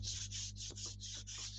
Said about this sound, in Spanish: Vamos a pasar suavemente la lija sobre nuestro bastidor